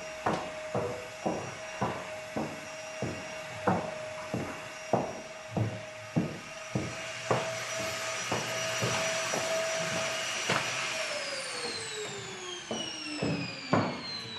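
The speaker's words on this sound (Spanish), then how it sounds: "¿De verdad tienes que aspirar a las 8 de la mañana?" A vacuum cleaner runs at home at eight in the morning, its steady motor whine broken by regular thumps and bumps as it is pushed back and forth. Near the end the pitch slides downward as the motor winds down. No one speaks.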